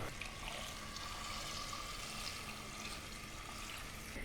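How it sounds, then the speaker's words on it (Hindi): Water pours steadily into a clay pot of spiced goat trotters being cooked for Eid, a continuous faint rushing splash with no talk. "अब हम इसमें डालेंगे पानी।"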